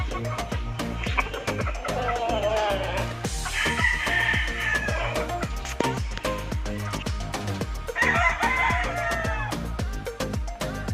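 Backyard chickens cluck and crow repeatedly at close range, with rooster crows rising twice above busy, constant fowl chatter and no talking.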